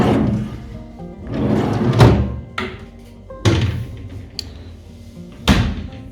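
Hotel room drawers slide open and shut close by, producing a series of wooden thuds and bumps in an irregular rhythm, with about four sharper knocks among softer sliding rustles.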